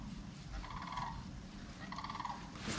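Wild turkeys gobble from a distance outdoors, two rattling calls about a second apart, fairly faint over low background noise.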